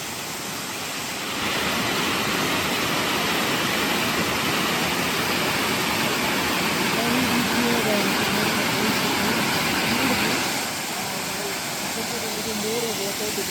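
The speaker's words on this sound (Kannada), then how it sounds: "this is ಚಾಮಡ್ಕ falls" Chamadka Falls rushes with water, a steady broadband roar filling the whole stretch at close range, swelling slightly midway and easing near the end, with no voices over it.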